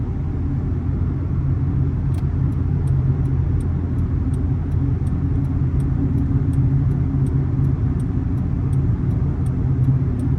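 A car rolls through a roundabout during a driving road test in Doha, Qatar, gearing down; a steady, loud engine and road rumble fills the cabin throughout, with a faint regular ticking, likely the indicator, and no talk.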